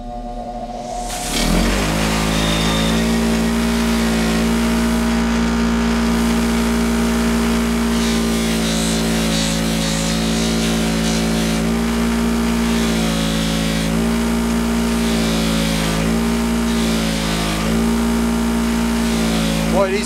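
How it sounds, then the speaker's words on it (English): A motorized buffing wheel spins steadily with a continuous humming whir while stainless steel bolts are polished with red rouge in a workshop, and it keeps running through short brief changes in pitch. "I can just touch it with the wheel and they polish up."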